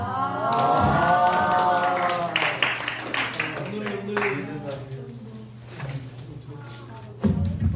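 A church youth congregation breaks into clapping and some cheering during a Sunday service. The applause is fairly close and fades over several seconds while people talk over it, above a steady low hum.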